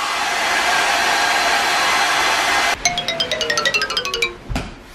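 A hair dryer blows with a steady, loud rushing whir for nearly three seconds, then cuts off and gives way to a rapid series of bright chiming tones.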